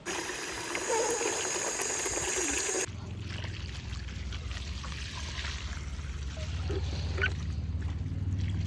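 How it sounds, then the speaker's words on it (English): Water is poured and mixed into a bucket with soil fertilizer, a steady trickling and sloshing that carries on throughout under faint outdoor background noise, with no talking. "So first I put 3 tablespoons in the bucket and now I'll mix with water."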